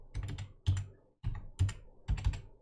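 A password being typed on a Mac computer keyboard, with quick close clusters of soft key clicks in short bursts separated by brief pauses, fairly quiet and with no voices.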